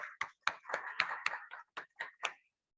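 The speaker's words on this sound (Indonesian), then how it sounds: "Kita kasih aplaus untuk kita lebih semangat lagi." A classroom of students claps together in short, crisp bursts with a quick, uneven rhythm, about ten claps over roughly two and a half seconds before stopping.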